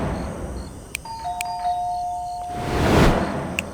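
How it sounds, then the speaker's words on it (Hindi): A doorbell rings with a clear electronic two-tone ding-dong chime over quiet room hiss, a single short ring, followed by a brief louder rustle near the end. "सबसे पहले तो मैंने डोरबेल बजाई थी।"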